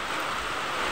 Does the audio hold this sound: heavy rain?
yes